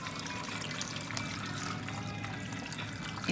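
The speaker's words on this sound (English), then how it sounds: "Now pour the sauce that you prepared ahead of time over all the ingredients." Prepared sauce poured over chicken, vegetables and fruit for an Egyptian Jewish tagen dish, a steady close liquid trickle and splash running continuously with no talk.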